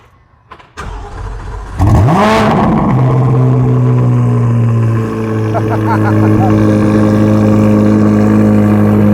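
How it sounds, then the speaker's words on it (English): A Corvette C8 Z06 with an aftermarket exhaust cold-starts: the engine cranks and fires, revs sharply once, then settles into a loud, rumbling idle that carries on steadily. "I know you guys want a cold start."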